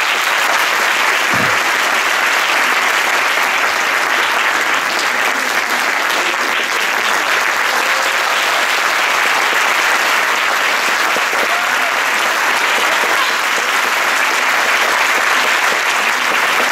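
A theatre audience applauds graduating performers after a staging of Molière's The Miser: dense, sustained clapping that stays loud and even from start to finish, with no voices on top.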